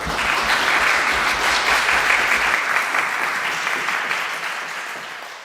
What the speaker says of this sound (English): invite the audience to first give them a round of applause for that excellent debate